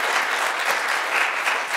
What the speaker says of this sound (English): join me in thanking our panelists and our commentator this